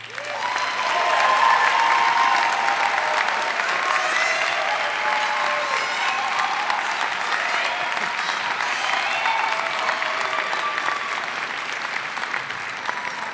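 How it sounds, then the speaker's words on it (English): Sustained applause from a large crowd at a college graduation ceremony, steady clapping filling the space for over ten seconds without pause. "Let's give him a round of applause."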